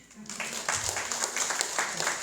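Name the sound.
church congregation applause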